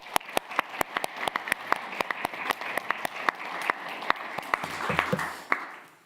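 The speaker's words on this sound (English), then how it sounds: "Round of applause to Holly." Sparse applause for a student speaker at an environmental security pitch event: a few people clapping, with crisp, distinct claps over a light crowd wash and a soft thump near the end.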